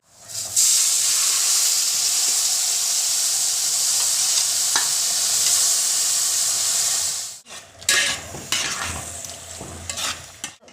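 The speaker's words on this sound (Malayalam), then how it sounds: "അപ്പം നമുക്ക് നന്നായിട്ടൊന്ന് ഇളക്കി മൂപ്പിക്കാം" Kappa biryani, tapioca cooked in a pressure cooker, is stirred and roasted in a pan with a constant close hiss and sizzle, then breaks into rougher scraping and stirring sounds toward the end.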